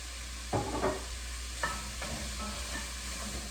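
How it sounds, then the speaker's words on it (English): Jambalaya ingredients sauté in a pan with a steady, soft sizzle, broken by a few brief scrapes and stirring knocks from a utensil; no one speaks. "All right, so while that is sauteing"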